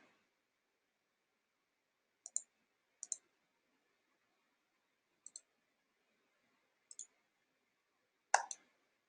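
A computer mouse clicks in a quiet room, about five separate quick double-clicks spread out over several seconds, close and crisp against near silence.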